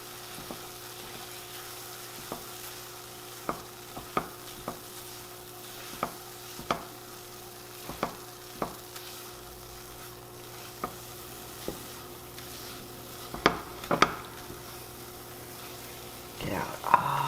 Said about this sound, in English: Got to mix it in really well.